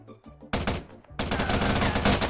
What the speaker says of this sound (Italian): Che si sentono pure gli spari lontani